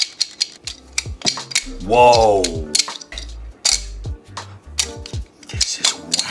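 Clicks and clacks from a $22 3D-printed plastic balisong trainer being flipped, with rapid irregular handle impacts throughout, loud and close, while a voice exclaims briefly over them.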